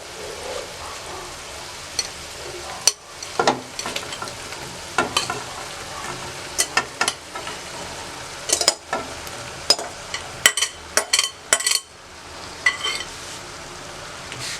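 Okra being stirred into fried masala in a hot pan, with a steady soft sizzle under a string of sharp clicks and scrapes from the spoon against the metal, close and fairly loud, with no one talking.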